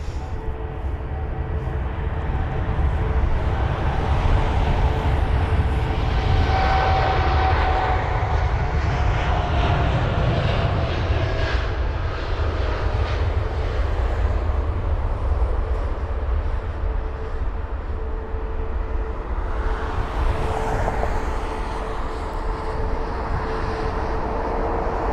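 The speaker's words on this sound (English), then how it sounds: "Yes, Air Algeria already lining up, absolutely no time wasted" An Air Algeria airliner lines up on the runway at London Heathrow, its jet engines droning steadily at a distance with a slowly shifting whine that rises again toward the end.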